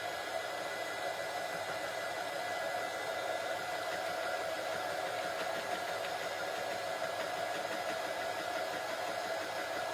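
A hair dryer runs steadily to dry small painted craft pieces, a constant close whooshing blow with no change in pitch and no voices over it.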